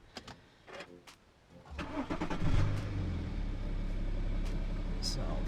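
A car engine cranks and catches after some quiet clicks and handling noises, then settles into a steady low idle running close by.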